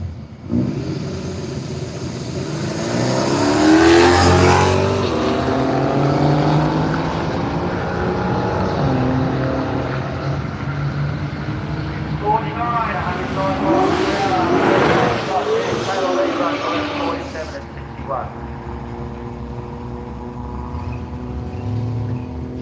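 A Holden HQ coupe and an XE Falcon drag race at Willowbank Raceway, their engines roaring loudly through rising revs, with a second loud surge midway and a commentator talking over the noise.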